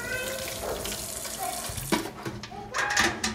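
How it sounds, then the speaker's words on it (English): Tap water runs into a kitchen sink as bleach is rinsed out of a sponge, a steady close splashing rush with squeezing and dripping changes throughout. "Rinse the bleach out of my sponge."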